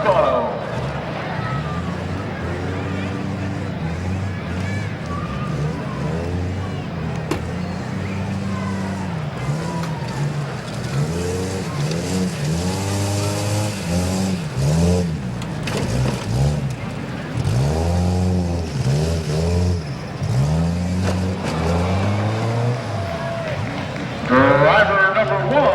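A tough truck races over a dirt competition course at the Tuscarawas County Fair, its engine revving and surging repeatedly across a long stretch, loud and close, while an announcer talks throughout.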